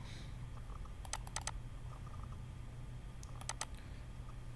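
Two short bursts of crisp key clicks as an Excel function is typed on a computer keyboard, quiet over a steady low hum with no talk.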